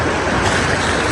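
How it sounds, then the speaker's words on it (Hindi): Fast-flowing cold stream water rushes loudly and continuously at close range, a dense unbroken roar of water with no voices. "तो पानी की आवाज़ से ही पता चल रहा होगा आप लोगों को कि पानी कितना ज़्यादा तेज़ बह रहा था।"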